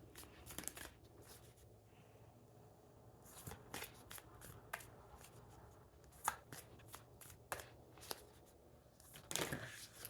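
An oracle card deck being shuffled close up: repeated quick riffles and soft card snaps in irregular bursts over a quiet background, with no talking.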